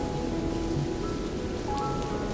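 Steady rain falls throughout behind a story reading, a constant dense patter with a low rumbling undertone, loud and continuous with no voice over it.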